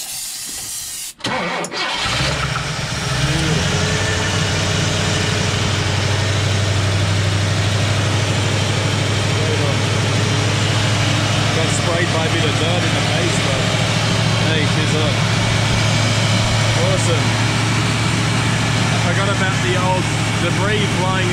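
A Ford V8 engine cranks briefly after fuel is poured into the carburettor bowl, then catches and settles into a loud, steady, rumbling idle that runs unbroken close by.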